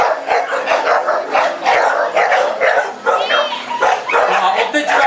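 Staffordshire bull terriers at a dog show bark and yip continuously, loud and close, with whimpers mixed into a busy chorus of overlapping dogs.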